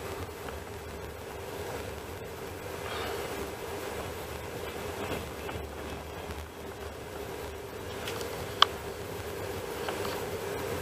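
Passenger train on the Krasnoyarsk–Moscow line in Russia, heard from inside the carriage: a steady, continuous low rumble of wheels on rails with faint rhythmic clatter and one brief sharp click near the end.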